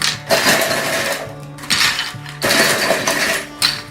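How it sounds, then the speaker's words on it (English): Ice cubes clatter and clink as they are dropped into a bag for making ice cream, a continuous run of loud, close rattling bursts with brief pauses and no speech. "So, try to get lots of ice cubes in there."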